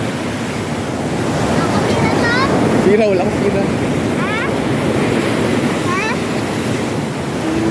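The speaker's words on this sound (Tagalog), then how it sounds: "Grabing alon." Big ocean waves surge and crash during a typhoon off Palawan, a steady loud roar of surf and wind-buffeted water lasting throughout, with someone talking excitedly over it.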